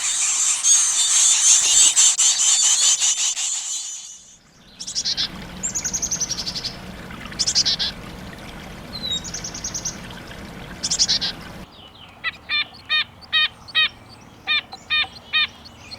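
Baby birds in a birdhouse nest near fledging, first a dense high-pitched chatter, then short bursts of shrill peeping that become a rhythmic series of sharp cheeps, close by and with no talking.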